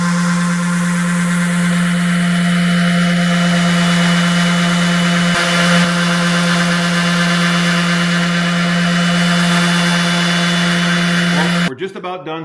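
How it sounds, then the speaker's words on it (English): A power sander drones loudly and steadily with a constant hum for most of the clip while sanding a wooden mantel, then cuts off abruptly near the end. "Just about done sanding this mantle"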